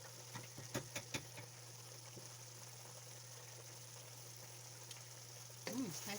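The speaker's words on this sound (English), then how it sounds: "Michelle's gonna cook her pancake" A pancake sizzling in a hot pan, a steady broad frying hiss with a low hum beneath, a few faint clicks and a brief stir near the end.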